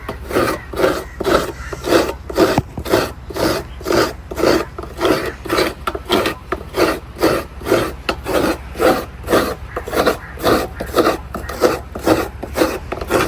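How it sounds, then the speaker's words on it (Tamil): Fresh coconut grated by hand for cooking fish in a seaside fisher household, close, loud rasping strokes repeating in a brisk, even rhythm throughout. "தேங்காய் திருவி முடியுது."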